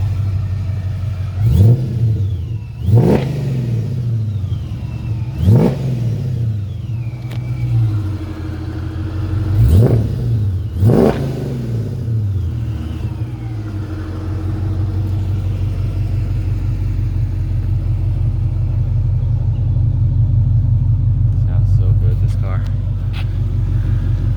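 A supercharged 2009 Dodge Challenger SRT8 with a six-speed manual revs hard four times in quick succession, each blip sharp and loud, then settles into a deep, steady idle rumble close by.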